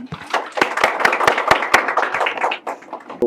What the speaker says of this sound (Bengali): সর্বপ্রথম আমরা সেই দুজন শিক্ষার্থীদের শুভেচ্ছা জানাই জোরে করতালি দেওয়ার মাধ্যমে